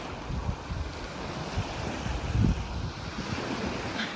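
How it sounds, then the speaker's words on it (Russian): Big sea waves on the coast near Dolzhanskaya, a loud rushing surf with wind buffeting the microphone, steady and continuous with a heavier crash surging midway. "И сейчас большие волны."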